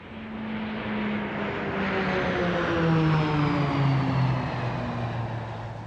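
A World War II propeller aircraft flies past, its steady engine drone swelling and fading with shifting pitch, loud and close, with no talk.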